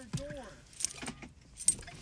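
Car keys jangle in short metallic bursts beside a locked car, with voices talking over and between the rattles.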